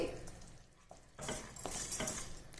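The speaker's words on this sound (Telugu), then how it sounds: "ఇదంతా వేసేసి లో ఫ్లేమ్ టు మీడియం ఫ్లేమ్ పెట్టుకొని ఇలా బాగా మిక్స్ చేసుకోవాలి" Pulihora paste being stirred in a pan over low to medium flame, with soft scraping and a faint sizzle that grows louder after a quiet opening, with occasional utensil clinks.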